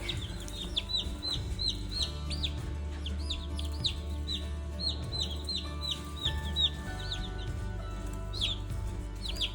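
Backyard chickens cluck and chirp almost continuously, close and fairly quiet, with short high calls repeating over a low steady hum.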